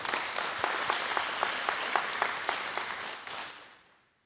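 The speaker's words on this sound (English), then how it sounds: "Give yourself a round of applause for being here." Audience applause at a groundbreaking ceremony in the Antelope Valley: a steady wash of many hands clapping at moderate distance, sustained for several seconds before fading out quickly at the end.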